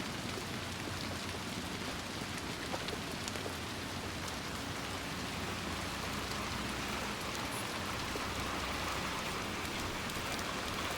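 Heavy rain falls without letup outside a hospital in the game Little Nightmares II, an unbroken wash of drops with maybe a faint rumble of distant thunder beneath it.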